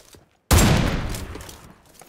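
Dense automatic gunfire from a battle-royale shooter with the LynX AMR sniper rifle, bursting in suddenly after near silence and rolling on loudly as a continuous fusillade.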